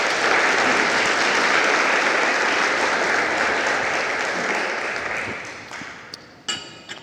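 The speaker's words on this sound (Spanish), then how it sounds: "Aplaudimos al Señor." A church congregation at a Spanish-language sermon applauds together in a dense, loud burst that holds steady for several seconds before thinning out into a few scattered final claps.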